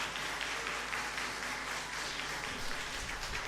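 Church congregation at an Adventist baptism service applauding the newly baptized family, a steady, dense wash of many hands clapping at once, moderately distant and even throughout with no pauses.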